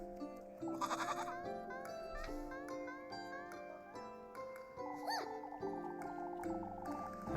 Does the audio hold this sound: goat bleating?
yes